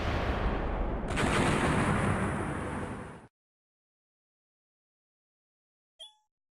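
Tank and artillery fire in a war strategy video game: a sustained heavy roaring barrage for about three seconds that cuts off abruptly, followed by silence and a short sharp pop near the end.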